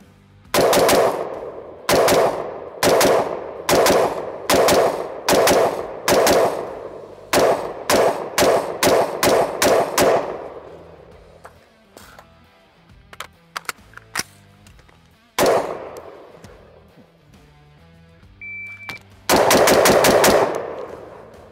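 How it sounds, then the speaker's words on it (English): A Q Sugar Weasel 5.56 rifle fires rapid, loud, sharp shots in fast strings, then scattered single shots and ringing clangs, ending in a final burst. "It's a very comfortable rifle to shoot."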